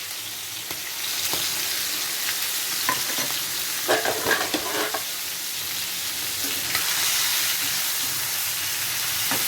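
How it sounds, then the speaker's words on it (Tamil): Ground roasted masala paste with onion frying in a pan for a chicken dish, a steady close sizzle and hiss with scraping stirring sounds scattered through, no talk. "இப்போ நம்ம அரைச்சது விழுதை வந்து சேர்த்துடலாம் நம்ம வறுத்து அரைச்ச மசாலா அந்த வெங்காயம்"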